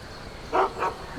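A dog in Skyrim gives two short barks in quick succession, faint over a quiet game background.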